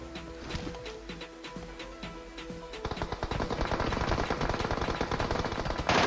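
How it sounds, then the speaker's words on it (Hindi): Gunfire in a battle royale video game: sparse sharp single shots, then a dense rapid burst of automatic fire that grows louder and keeps going to the end. "तो मैं इन पे फायर देता हूँ"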